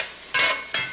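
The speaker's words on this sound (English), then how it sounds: "give this all a quick stir. Keeping the heat on." Quick stirring of chicken with garlic and lime juice in a hot pan, two short scraping strokes over a steady low sizzle, close and fairly loud, no talk.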